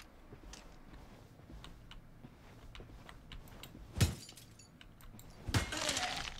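Objects smashed in an office setting in the video game Perfect Vermin: two sharp breaking crashes, with glassy shattering, stand out over a quiet bed of faint ticks and clinks.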